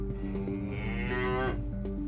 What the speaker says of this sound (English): Paramedic Dan and Special Sergeant James have located the cow causing havoc around Kent's roads.